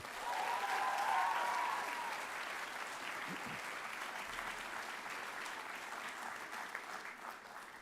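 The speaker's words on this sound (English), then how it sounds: "with a big round of applause" Audience applause at a college graduation ceremony, a dense steady clapping from a crowd that swells briefly and then holds at an even level, heard from some distance in a large hall.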